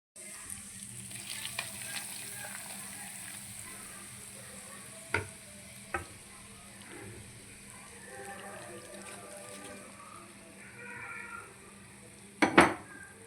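Hot tempering poured over cabbage chutney and stirred in, with a soft steady sizzle under light scraping and a few sharp clinks of a spoon on the vessel, including a louder clatter near the end, close and moderately quiet.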